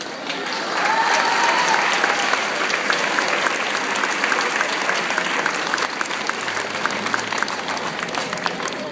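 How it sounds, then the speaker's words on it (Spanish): An audience applauds a group of teachers at a school closing ceremony, with steady, sustained clapping from a crowd that holds for several seconds at moderate volume, and a few faint voices underneath. "brindémosle un fuerte aplauso a esta planta de maestros"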